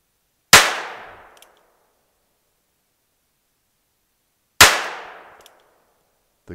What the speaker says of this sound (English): So let's try another 6 shots here.